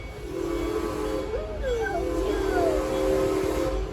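A theme park train on the Serengeti Express sounds its whistle in sliding, wavering tones over a steady rumbling hiss, close and fairly loud, with the whistle notes stretching across most of the stretch.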